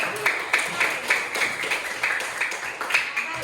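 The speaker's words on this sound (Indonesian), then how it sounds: "Tepuk tangan dulu." Light classroom clapping from students, a loose patter of separate claps at moderate volume throughout, with some voices mixed in.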